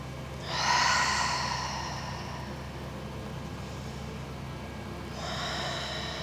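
Slow breaths drawn in and let out through the nose during a beginner yoga class, a long soft inhale-exhale near the start and another fainter breath near the end, close and quiet with no talking.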